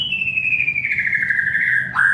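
A white-rumped shama sings one long, clear whistle that slowly slides downward before a quick upturned flick, loud and close.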